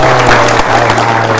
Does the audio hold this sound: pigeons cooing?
no